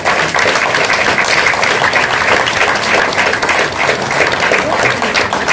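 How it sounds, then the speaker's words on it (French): An audience applauds at the SACD awards ceremony in 2023 with dense, continuous clapping that holds at an even, full level throughout, and no voices stand out. "Sous vos applaudissements."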